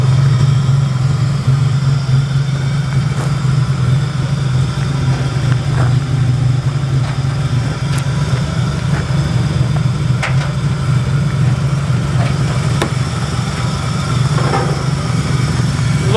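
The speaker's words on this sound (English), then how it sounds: "An AU Falcon motor in an S13." A Ford AU Falcon engine swapped into a Nissan S13 idles loud and close, holding a steady low drone and even rumble the whole time, with faint clicks and shuffles around the car.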